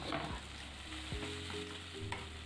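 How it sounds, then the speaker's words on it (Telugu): Chopped onions and tomato pieces frying in a pan for egg bhurji, with a steady close sizzle and a few scrapes of a spatula stirring through, no voices. "ఈ ఉల్లిపాయలను కొంచెం గోల్డెన్ బ్రౌన్ వచ్చే వరకు ఫ్రై చేసుకోవాలండి"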